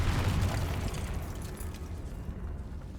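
A Confringo blasting spell detonates in the Hogwarts Legacy video game, a loud booming burst up front whose rumble lingers and slowly fades over a few seconds.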